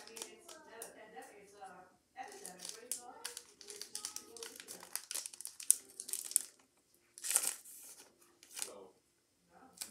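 Scissors cut open the plastic wrapper of a Pokémon card pack with crinkling, snipping and rustling close up, in short bursts between pauses while a person talks.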